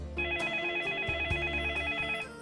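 A telephone rings for an incoming call during a phone-in show, a warbling electronic ring repeating in steady bursts, clear and moderately loud with no voices over it.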